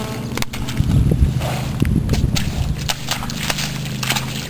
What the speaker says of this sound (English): You are the dirtiest horse officially that I've ever seen.